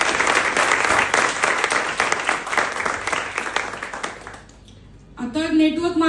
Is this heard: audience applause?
yes